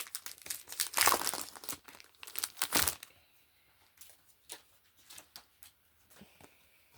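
Crinkly plastic packaging around a scrapbooking embossing folder is handled and torn open, a loud dense rustle for about three seconds, then softer scattered crackles and taps.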